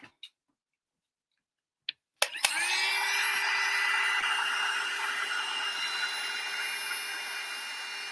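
Hair dryer switched on to dry rice paper on a large oval blank, a few clicks and taps, then a sudden loud steady blowing whir with a constant motor hum that runs on to the end.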